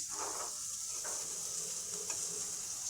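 Grated coconut and chopped onion with ginger frying in a pan for a chana matar curry, a steady close sizzle with faint stirring scrapes, no talking.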